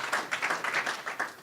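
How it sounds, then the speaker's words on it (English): A small conference audience gives a short round of applause, with distinct overlapping claps coming in uneven bursts, moderately close and fairly thin. "Can we do a quick round of applause again for Ty?"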